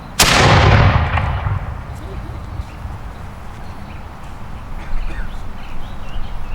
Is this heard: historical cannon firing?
yes